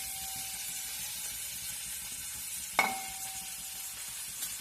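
Onions hit hot coconut oil in a pan and sizzle steadily up close, with one sharp clink of a utensil partway through and no talking.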